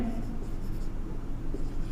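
A pen scratches continuously on paper while a coordinate geometry math solution is worked out, a faint close scraping over a low steady background hum.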